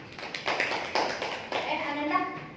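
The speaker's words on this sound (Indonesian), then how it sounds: "Beri tepuk tangan kepada penata." A small classroom group claps in loose, scattered bursts during a micro-teaching lesson, the claps uneven and moderately close, with children's voices mixed in.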